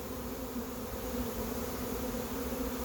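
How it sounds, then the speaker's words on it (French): A dense, even buzz of many honey bees streaming out of a hive right after a swarm was hived, loud and close, with no voices. "Les abeilles sortent."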